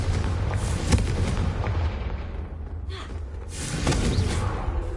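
Fiery blast spell effects in the Hogwarts Legacy game, heavy booming bursts rolling over a dense low rumble, with sharp impacts near one second and again around four seconds.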